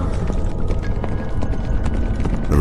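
Horse hooves gallop along a road, pulling a tonga, in a dense rapid clatter mixed with rattling mechanical noise, loud and continuous.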